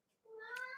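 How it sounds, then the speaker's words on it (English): A female cat meows once at a closed door, a brief rising cry heard faintly from a distance in a quiet room. "I wonder if my producer can let the cat out. Because she's crying at the door."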